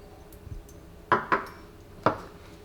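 Three crisp clinks against a bowl while milk and oil go in for an apple pie batter, quiet and close, with no talking.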